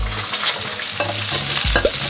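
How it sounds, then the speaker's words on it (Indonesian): Two eggs being scrambled in a hot pan as filling for village-style risoles, giving a close, loud sizzle with quick stirring scrapes and a couple of sharp utensil knocks, no voices. "Isiannya kita harus orak-arik telur dulu."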